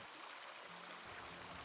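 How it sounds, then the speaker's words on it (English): A creek on a small farm with alpacas and chickens flows steadily in the distance, a soft, continuous rushing wash of water with no voices. "And the creek is flowing there in the distant."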